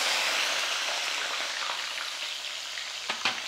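Green chillies sizzling in hot oil while making fish pickle: a steady, bright frying hiss close up that fades slightly, with a couple of sharp pops near the end.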